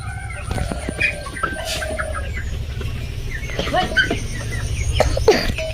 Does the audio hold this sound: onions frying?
no